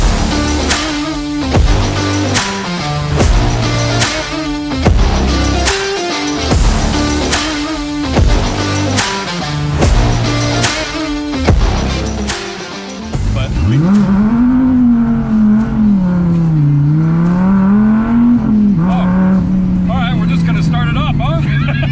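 A Dodge Viper ACR driven hard, its engine revving loudly in rhythmic bursts over pounding music, then settling into a sustained, rising and falling high-revving drone as the car pulls.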